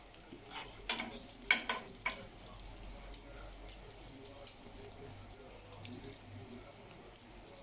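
Soft, steady frying sizzle of dough for Egyptian mutabbaq in a pan, with a few clinks and stirring taps, quiet and close, a voice murmuring faintly in the background.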